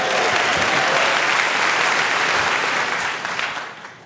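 An audience applauds at a talk, steady dense clapping filling the room for several seconds before tapering off, with no voices over it.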